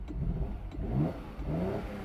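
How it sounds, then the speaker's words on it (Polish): Ferrari-built V6 in a classic Fiat Dino, heard up close as it fires and revs with a loud, throaty roar that swells, dips briefly, then builds again. "jak odpalę silnik, to słychać, że mamy do czynienia z rasowym V6"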